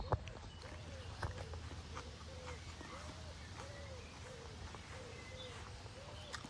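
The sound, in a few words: birds calling outdoors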